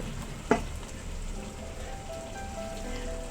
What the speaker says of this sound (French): On laisse mijoter